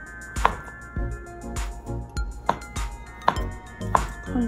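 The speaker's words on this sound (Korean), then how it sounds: "소시지도 어슷 썰어주세요." Sausages are sliced diagonally with a knife on a cutting board for spicy Korean sausage stew: several distinct, sharp knife strikes land on the board at an uneven pace, close and clear with no talking.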